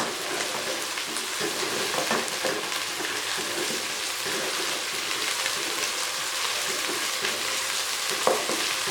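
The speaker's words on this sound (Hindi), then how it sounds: "प्याज और टमाटर हमारा अच्छे तरीके से फ्राई हो गया है।" Onion and tomato frying in oil in a pan for a potato and egg curry, a steady dense sizzle with crackling spatter and scraping stirs, continuous and close with no talk.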